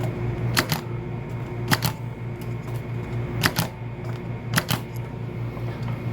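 A wire cutter snips cable wires on a GigaBIX punch-down block, giving sharp, close clicks that come in pairs, two cuts several times over a quiet background hum.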